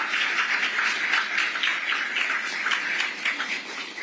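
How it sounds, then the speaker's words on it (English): An outdoor audience at a statue dedication claps in a fairly soft, steady patter, with a light texture and no voices, easing off slightly toward the end. "Would everyone give him a big round of applause?"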